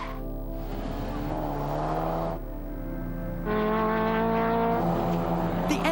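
A race car drives at speed on a track, engine tones rising and falling through gear changes, fairly loud and steady with no talk.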